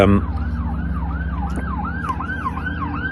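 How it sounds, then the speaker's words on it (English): A wailing emergency siren, ambulance-like, sweeps up and down in steady repeated cycles over a low vehicle rumble, loud and close throughout. "you don't hear many sirens out here"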